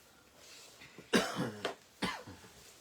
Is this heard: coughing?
yes